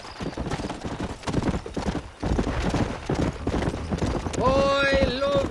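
Horse hooves clip-clop at a steady gallop in the Red Dead Redemption video game, loud and continuous, with a horse whinnying near the end.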